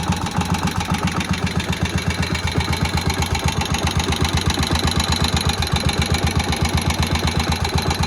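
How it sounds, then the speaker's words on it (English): A Moto Guzzi single-cylinder motorcycle engine, restarted after long storage, idles with a slow, even thumping beat, close and steady, each low pulse distinct over faint mechanical ticking and flywheel spin. "That really low guzzy single tick over."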